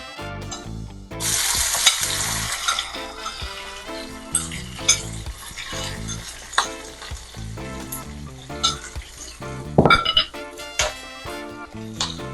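Seasonings fry in hot coconut oil for a tin mackerel dish, a steady sizzle under frequent clinks and scrapes of a utensil stirring against the pot, with no talking.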